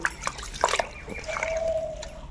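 Jute greens are swished in a bucket of water, giving close, brief splashes and sloshing with some trickling and a faint tonal squeak midway.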